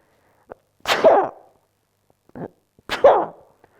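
Two sneezes from a person showing how to sneeze properly while talking about common colds, each with a short sharp intake followed by a loud burst and separated by a pause. Small clicks sit between them.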